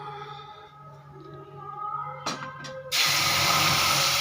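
Mutton stock poured into a hot pan of dry-roasted spices over a high flame sets off a sudden loud, steady sizzling hiss that takes over after a quieter stretch of kitchen noise.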